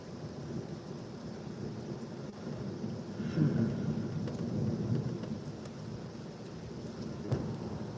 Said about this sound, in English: I hope you can hear the thunder and lightning.